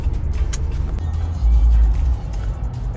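Cars driving past on a road near a camping trail, a steady low rumble of traffic with one vehicle swelling louder as it passes close, then fading back into the background hum.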